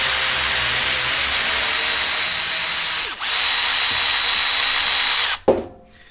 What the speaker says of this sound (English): the little SP air ratchet that I got is pretty badass